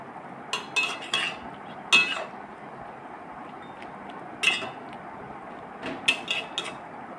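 A vegetable curry with two spoons of cumin powder is stirred in a pan, giving a few scattered spoon scrapes and clinks over a low steady background, with no one talking.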